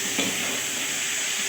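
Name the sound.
onions frying in a pan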